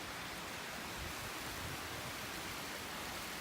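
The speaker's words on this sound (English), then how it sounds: "I'm lucky there is a waterfall" Waterfall in Ice Box Canyon, Red Rock Conservation Area near Las Vegas, a steady broadband hiss of falling water heard faintly from a distance, with no voices.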